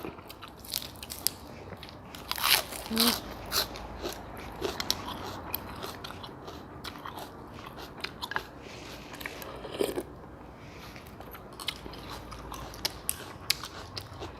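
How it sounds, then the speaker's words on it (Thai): Close, loud crunching and chewing of crisp vegetables eaten with thin rice noodles in Thai pork noodle soup with fried garlic and crispy pork rind, irregular bites and munching throughout. "ผักนี่กรอบมาก"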